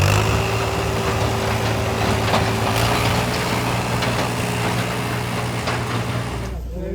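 A tractor engine idles and runs with a deep steady diesel rumble and droning hum, close and loud, before the sound cuts off abruptly near the end.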